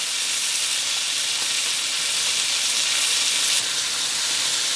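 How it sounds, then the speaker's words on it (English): Steady, loud sizzling of beef roast searing in a hot pan, a dense hiss with fine crackling running throughout without pause. "the sound changing from a hiss to more of a crackle"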